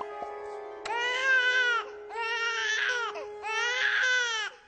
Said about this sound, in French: C'est le son le plus stressant du monde, un bébé qui pleure.